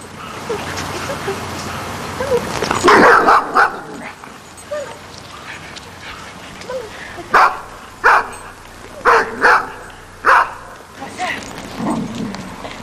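A reactive dog barks in sharp, loud bursts, first a cluster early on, then a run of separate barks spaced across the second half, with a person talking in between.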